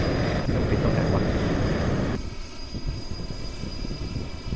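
Airplane engine in a Thai-language video game, a loud steady broadband roar that holds strong, then drops in level and thins out partway through, with no talk over it.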